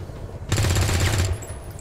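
A single short automatic burst of gunfire in XCOM 2, loud and close, lasting under a second against a quieter background.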